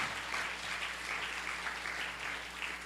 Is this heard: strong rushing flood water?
no